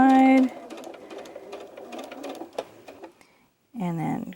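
Sewing machine chain-stitching pieces of a quilt block of isosceles triangles, a steady close mechanical whir that runs unbroken for about three seconds, stops, then starts again after a short pause, with a voice speaking over it at the start and end.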